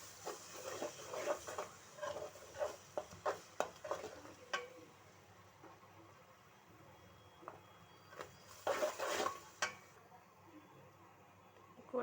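A spatula clicks and scrapes rapidly in a pan while eggs and salt are stirred into egg rice, quiet clusters of taps and scratches with a soft sizzle between bursts.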